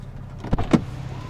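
The front axle lifter on a 2019 Porsche 911 Carrera 4 GTS lowers the nose, heard as a soft electric motor hum with a couple of brief mechanical clunks near the middle, close by and without talk.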